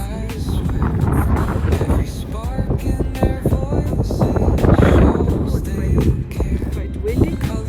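Wind gusting loudly across the microphone on a mountain trek toward Mulhacén, a steady broadband roar with buffeting throughout while several people talk nearby.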